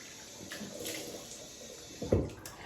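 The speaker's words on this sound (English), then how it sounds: "Put some hot water on my face." Hot tap water splashes onto a face before a shave, a brief, close splash near the end over a soft running-water hiss, with no talking.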